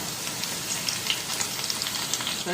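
Mutton pieces and curry leaves crackle in hot oil in a pan for Mutton 75, a dense, steady sizzle with sharp pops scattered throughout, close and loud with no voices.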